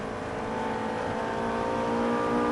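A Ferrari 458 Italia accelerates on a racing circuit, its engine a steady, rising roar heard from inside the car, loud and continuous throughout, with no voices.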